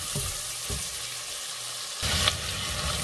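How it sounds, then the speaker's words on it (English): Smoked sausage browning in a frying pan, a steady sizzle with a few soft knocks early on, then a louder burst of frying near the end, no voices. "We need to make our smoked sausage a little bit brown before we put our"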